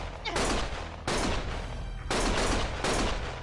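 Bursts of rapid gunfire from the video game Lost Judgment, four loud volleys in close succession, dense and crackling, with no pauses of silence between them.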